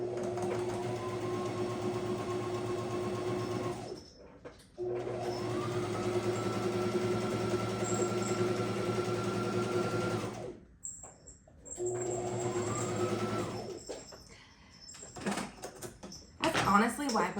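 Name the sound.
sewing machine stitching quilt pieces with enders and leaders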